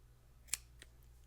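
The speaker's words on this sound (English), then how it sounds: "I'm laying the scissors on top of the center post and just going to cut it." Scissors snip a cotton wick laid on the center post of an Origen RDA vape atomizer, one sharp close snip followed by a fainter second click over a quiet hum.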